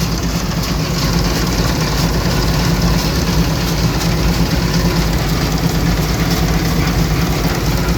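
A loud, steady Bizon combine harvester engine drones and rumbles continuously up close during barley harvest, running at constant speed with no pauses.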